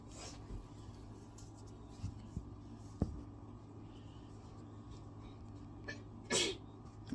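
A single person sneezes once, a short sharp burst in a quiet room with low hum, preceded by a few faint clicks and small noises.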